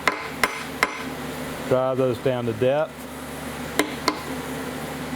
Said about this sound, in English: I got a little copper hammer,